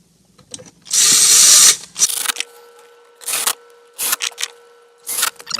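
Screws are driven back into the dash of a Volkswagen Golf while a new car DVD GPS head unit is installed, with a sustained whirring power-driver burst followed by several short, loud bursts spaced a second apart.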